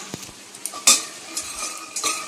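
Peanuts frying in a pan on a home stove give a light sizzle broken by a few sharp scrapes and clinks of a spatula against the pan, one especially loud, with no one speaking.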